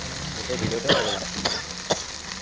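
Panch phoron and garlic hit hot oil along with dried chillies, giving a brief, dense crackle with a few sharp spatters standing out over a steady sizzle.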